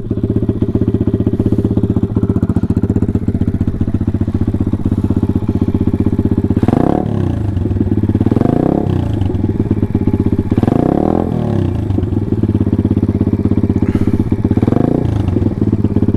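A Taotao DB17 125cc pit bike idles loud and close after a half-choke start, a steady single-cylinder putter broken by several short throttle blips that rise and fall in pitch.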